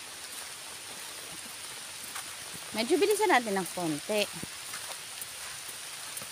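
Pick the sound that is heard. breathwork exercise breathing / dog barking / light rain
light rain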